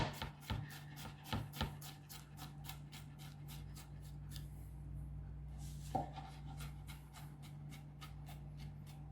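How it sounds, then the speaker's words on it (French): A knife finely chopping a peeled, flat-crushed garlic clove on a board, quick light taps in bursts with a short pause midway, quiet and close with no talk. "Couteau plat dessus, on l'écrase. Voilà. Après, vous la hachez."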